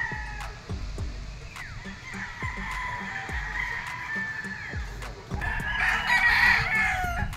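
Sweater gamefowl rooster crowing at a gamefarm, a loud clear crow rising near the end, with other birds clucking and crowing faintly in the background.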